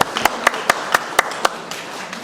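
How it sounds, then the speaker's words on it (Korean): A small audience at a retreat lecture claps briefly for a young participant, giving a handful of sharp, fairly evenly spaced claps over a soft room background. "우리 다윗을 위해서 박수 한번."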